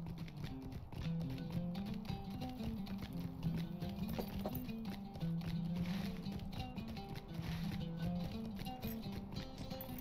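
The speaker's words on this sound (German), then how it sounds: "Jetzt, nachdem ich mein Pferdchen habe." A horse's hooves clip-clop in a steady trotting rhythm in the Lord of the Rings Online video game, soft and even, with game music and effects layered beneath.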